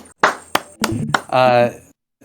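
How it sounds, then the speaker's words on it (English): A handful of sharp hand claps ring out close by, just a few people applauding in a loose rhythm, followed by a sustained cheering whoop. "Let's give Nugget a round of applause"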